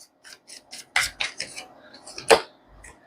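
Tarot cards are drawn and shuffled in short, crisp snaps and flicks, a few sharp slaps standing out among lighter rustling taps, close and fairly quiet.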